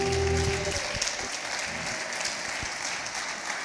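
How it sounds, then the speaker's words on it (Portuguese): A church congregation claps steadily in praise during a Portuguese-language worship service, a moderate wash of applause with a faint tonal hum underneath that fades slightly toward the end. "aplauda bem forte ao Senhor"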